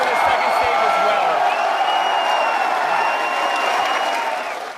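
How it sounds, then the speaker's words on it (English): A crowd cheers and applauds at a SpaceX Falcon 9 launch, a dense sustained roar of clapping and voices with faint tones running through it, loud and steady before easing off at the end. "What is with all the cheering?"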